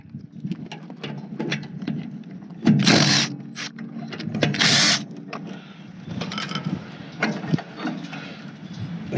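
A ratchet wrench removes two 8mm bolts from the ignition coil of a small engine, giving close, rapid clicking runs with a couple of louder bursts of ratcheting and metallic handling noises, without talk.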